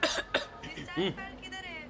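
A person coughs sharply twice at the start, close and fairly loud, in a clinic setting of someone who had a cough and fever; a voice speaks briefly afterward.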